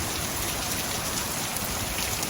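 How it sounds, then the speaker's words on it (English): Steady heavy rain pours down outdoors, the first in a long dry spell, a dense even hiss that holds constant throughout with no voices. "Yeah, I'm very happy it's raining like this."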